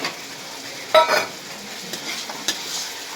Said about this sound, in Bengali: এর মধ্যে এখন আমি এই যে কুমড়ার বড়ি দিয়ে দিচ্ছি।